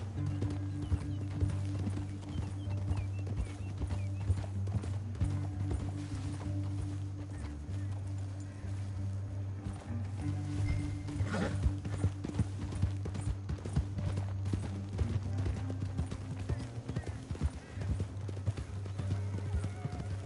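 Horses ride in Red Dead Redemption 2, their hooves clip-clopping in a steady, continuous rhythm throughout, with a brief whinny and faint background game sounds.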